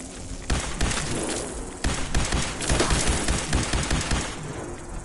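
Rapid bursts of weapon fire from a laser gun in Fallout 4's Glowing Sea, a dense crackling volley of repeated shots with heavy thumps, loud and continuous for several seconds with no talking.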